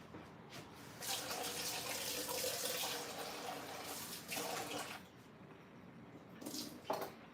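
Water runs from a household tap into a sink while painting supplies are being prepared, a continuous hissing splash that swells and drops with brief pauses and a few small clatters near the end.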